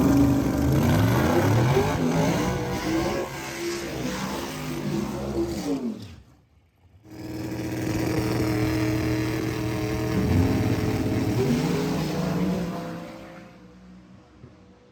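Twin-turbo drag race car on nitrous accelerating hard, a loud roaring engine climbing through the gears with rising pitch, a brief drop as it shifts, then another long pull before it fades away.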